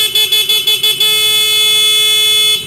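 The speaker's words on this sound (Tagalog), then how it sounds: "stock horn muna tayo" A Yamaha Mio Gear motorcycle's stock horn toots in six short, rapid bursts, then holds one long, loud blast, close and alone.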